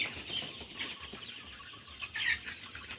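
A flock of 2.5- to 3-month-old broiler chickens on a farm clucking and murmuring softly at close range, with a few sharper squawks rising above the steady low chatter.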